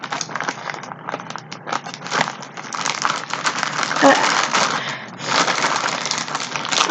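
A squishy toy package is cut and torn open, giving continuous crinkling and crushing of plastic wrap close to the microphone, with brief louder rustles throughout and no clear pauses.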